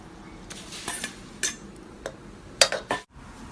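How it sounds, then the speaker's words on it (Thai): Fish meat being stir-fried in a pan for Thai larb, a quiet sizzle under scattered clinks and scrapes of a utensil against the pan, sparse irregular taps with no voices. "คั่วปลาก่อน คั่วปลาให้มันสุก"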